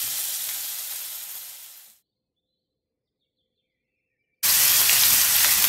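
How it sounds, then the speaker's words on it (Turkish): Chicken döner strips sizzle and fry in a hot pan, a steady loud hiss that cuts out into a couple of seconds of silence before the frying resumes even louder, with no talk. "kızgın tavaya alıyoruz"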